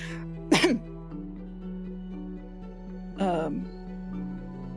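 Two short coughs, a couple of seconds apart, over a low steady background hum.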